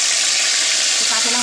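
A ground paste of ginger, cumin, black pepper, cardamom and fennel hits hot oil in a pan for a vegetarian jackfruit curry, giving a loud, steady, continuous sizzle throughout.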